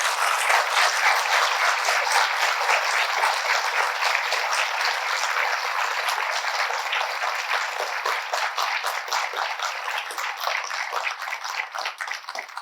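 A crowd applauds at a book launch with sustained, dense clapping that holds strong, then thins toward the end into more separate, scattered claps.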